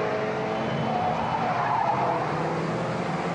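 Ordinary production cars racing on a circuit in a 1975 event at Epswich Raceway, tires squealing and skidding over a continuous roar of engines, loud and sustained with no break.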